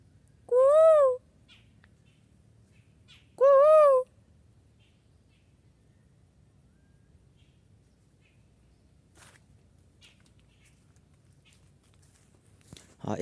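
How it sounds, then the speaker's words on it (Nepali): In a quiet Terai jungle, a bird gives two clear, rising harmonic calls a few seconds apart, followed by a long hush with only faint background hum and a soft knock at the end. "म जङ्गलमा चराहरूको आवाज सुन्न आएको छु"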